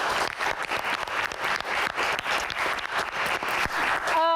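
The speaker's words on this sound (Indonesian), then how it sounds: "Tepuk tangan." Sustained applause from a crowd, steady clapping throughout, ending with a brief musical tone at the close.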